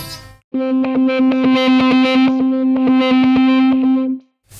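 An electric guitar with its input gain pushed into heavy distortion plays a loud, buzzing sustained chord, struck again and again in a quick, steady rhythm for about four seconds, with no voices.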